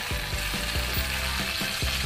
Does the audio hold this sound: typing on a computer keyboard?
no